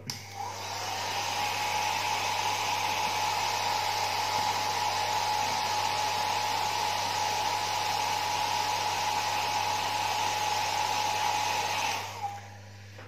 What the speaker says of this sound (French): Coup de sèche-cheveux et puis voilà.